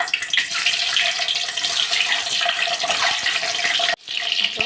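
Eggs dropped into hot oil in a kadai for egg curry fry with a loud, steady sizzle that crackles continuously, broken by one brief gap near the end, with no voices.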